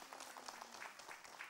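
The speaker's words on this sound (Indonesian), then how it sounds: "tepuk tangannya Bu." Audience applause at an Islamic religious study gathering in Ciputat, a soft, steady patter of clapping from a seated crowd, fairly quiet and continuous.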